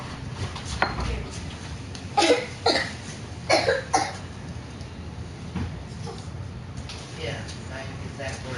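A person coughs several times in short bursts indoors, with brief throat sounds between, amid quiet background noise and some nearby talk.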